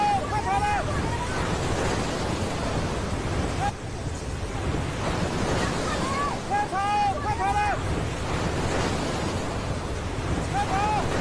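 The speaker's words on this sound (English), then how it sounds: "That's some serious water flow." Fast, heavy flash-flood water rushing past a riverfront in a constant loud roar with wind buffeting the microphone, while distant voices shout and cry out over the torrent.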